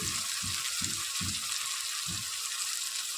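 Masala with turmeric and salt frying in a pan gives a steady, close hiss and sizzle, with a few soft stirring scrapes in the first half and one more just after the midpoint.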